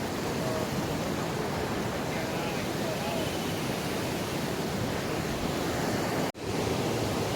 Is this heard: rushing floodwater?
yes